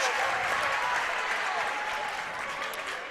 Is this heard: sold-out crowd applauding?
yes